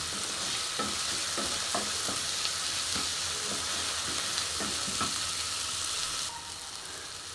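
Cauliflower with tomato and coriander sizzles in a pan as a spoon stirs it in repeated scraping strokes over a steady frying hiss, which drops a little in level near the end.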